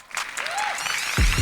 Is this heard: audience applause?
yes